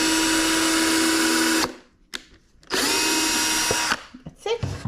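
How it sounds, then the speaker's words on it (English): A power drill whirs loudly in two long runs separated by a short pause, with clicks and clatter between, drilling a pin hole through a violin top into the ribs. "Then I take my drill."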